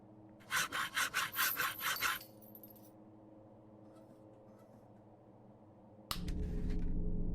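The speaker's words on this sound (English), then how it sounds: "Now I have a working hacksaw." A hacksaw sawing in the video game Dead Secret, about seven quick rasping strokes in a burst, then quiet before a louder ambient tone swells in.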